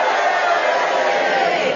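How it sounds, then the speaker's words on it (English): A studio audience at a 1972 radio panel game roars together in a steady, dense wall of cheers and boos, loud and close, sustained without a break. "And if you agree with Sheila's challenge about the encampment, will you cheer? And if you disagree, will you boo?"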